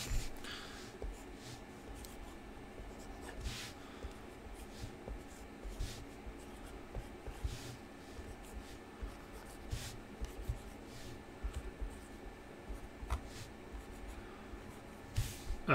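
A pen scratches numbers onto trading card packs from a case of 2015 Panini Contenders football cards, with faint intermittent scribbling strokes and light handling rustles at close range.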